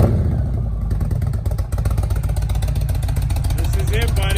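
A 2019 Indian motorcycle fitted with a D&D 2-into-1 exhaust, not yet tuned, runs loud and close with a deep, throbbing engine note and a brief rev, while voices talk nearby.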